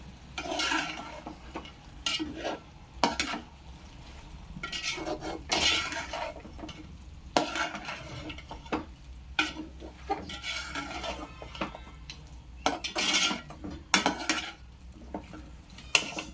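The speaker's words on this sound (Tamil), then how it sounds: "சேர்த்துக்கிட்டு இப்போ நல்லா கலரிடலாம்." A utensil stirs and scrapes a tomato masala with ginger garlic paste in a pan, repeated clanking strokes in an uneven rhythm over a soft, faint sizzle, with no voice present.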